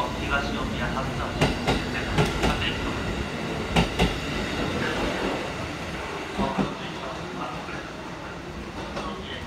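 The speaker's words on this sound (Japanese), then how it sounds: "東宇都宮発車です" A train departs Omiya Station, rolling with rhythmic clicking of wheels over rail joints and steady rumble, under faint background voices and announcements.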